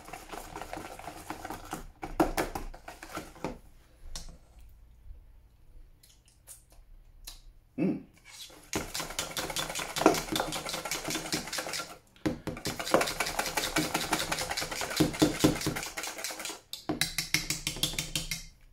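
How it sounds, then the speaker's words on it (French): Two frangipane batters are mixed together in a bowl. A utensil scrapes and clicks against the bowl in steady bursts, with a few brief pauses, faint and close. "là je vais venir maintenant mélanger les deux masses ensemble"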